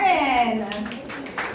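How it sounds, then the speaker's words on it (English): Scattered audience clapping at a film launch event, a few faint claps breaking through after a voice speaks, soft and brief. "let's give a round of applause once again to Direct Lauren."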